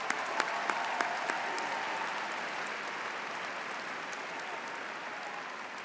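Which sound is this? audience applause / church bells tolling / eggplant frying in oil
audience applause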